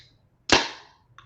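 A can of Victory Golden Monkey, a 9.5% Belgian tripel beer with added spice, pops open in one sharp crack followed by a decaying fizz, then a brief faint hiss or clink near the end; nobody speaks.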